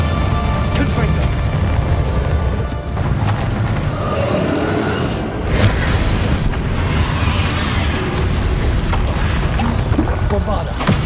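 Confringo fire-blast spells exploding in the Hogwarts Legacy video game, a continuous loud rumble of booms and crashes amid battle noise, with a voice talking over it.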